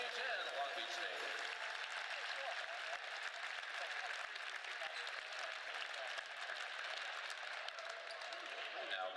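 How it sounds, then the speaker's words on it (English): Arena crowd at a college men's volleyball match applauds to honor a police lieutenant, steady distant clapping filling the large hall at moderate level from start to end. "Please join us in another round of applause honoring Lieutenant Jim Foster"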